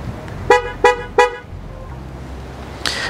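A Volvo EX30 electric car, 2024 model, sounds its horn remotely from a phone app in three short, loud honks evenly spaced, followed by a brief chirp, with no talk over it.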